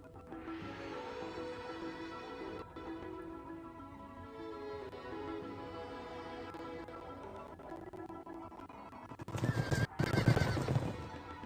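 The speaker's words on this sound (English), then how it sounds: "So that was a horse." A video-game horse gives a long, drawn-out neigh with wavering pitch, followed by a louder burst of snorting and hoof clatter near the end.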